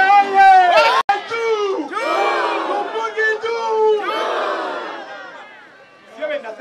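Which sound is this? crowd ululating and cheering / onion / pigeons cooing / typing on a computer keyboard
crowd ululating and cheering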